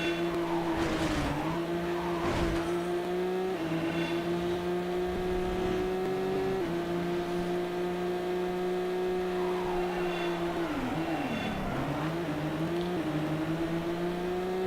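The Piranha car races in the video game Midnight Club 2, its engine holding a steady buzzing tone that rises and dips with gear changes, with occasional bursts of tire squeal and skidding.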